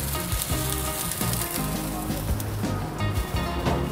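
Corn kernels sizzle steadily on a hot griddle at a Jalandhar street food stall making burgers, a dense close crackle running the whole time with faint rhythmic clatter beneath and no talk.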